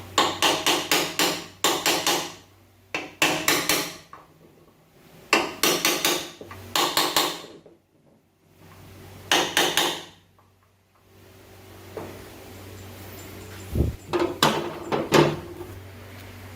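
Punch struck with a hammer to drive new bushings into a Foxbody Mustang door hinge, loud close bursts of rapid metallic blows in short clusters separated by pauses, with a few lighter taps near the end.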